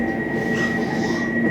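An Elizabeth line train departing Canary Wharf station, heard from on board as a loud steady rumble with a sustained electric whine, close and continuous, with no speech.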